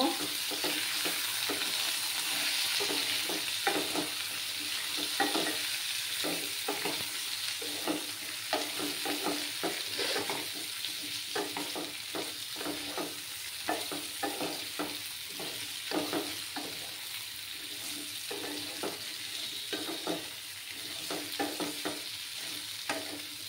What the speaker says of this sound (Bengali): একটু সময় এটাকে ভাজা ভাজা করে নেব।